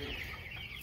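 Broiler chickens cluck close by in a farm shed, a brief burst of overlapping clucks over a steady low background.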